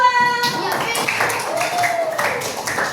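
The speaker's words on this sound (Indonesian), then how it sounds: "Tepuk tangan untuk nomor 2." Classroom students clap for a student team after a quiz answer, a short burst of applause mixed with children's voices and chatter throughout.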